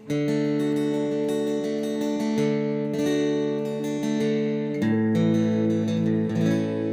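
A Kazuki Tele-style acoustic-electric guitar plays sustained, ringing chords with plucked notes, steady and clear, with no voices.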